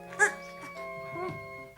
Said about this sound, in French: Un petit chien? Ah, ce qu'il est mignon.